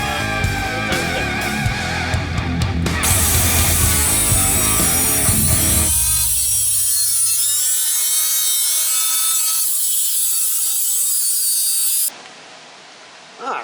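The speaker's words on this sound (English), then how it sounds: "we'll take our whacker tool and cut where we do our lines at" A whacker tool cuts through the floorpan of a 1985 Mercedes 300TD, a loud continuous grinding, rasping cut with a shrill, tonal metallic whine, then stops abruptly near the end.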